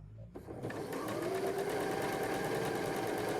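A sewing machine starts up and runs steadily, stitching quilting fabric with a fast, even mechanical whir close at hand.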